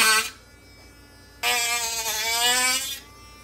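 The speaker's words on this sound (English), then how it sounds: "So we're using a Dremel stylo, cut it out with that." A Dremel Stylo rotary tool cuts a hole out of a plastic Chevrolet/GMC dash cluster part, giving a high, steady whine that buzzes briefly, stops, then runs again for about a second and a half, close up and alone.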